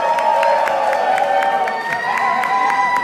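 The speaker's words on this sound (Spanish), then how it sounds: "aplausos para ella." A crowd at a queer festival closing gala in Bogotá cheers and applauds for a performer, with loud, sustained whooping and shouting over steady rhythmic clapping heard up close.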